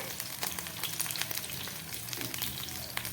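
Prawn, poppy seed and bottle gourd leaf fritters frying under a lid on a very low flame give a steady, dense sizzle with fine crackles throughout, close and moderately loud, with no voices.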